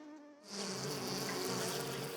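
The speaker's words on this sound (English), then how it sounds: "it's the whining of a mosquito in the dark" Mosquito whine in the dark, a thin sustained buzz rising in after a brief quiet moment and holding steady and fairly close, alone without any talk.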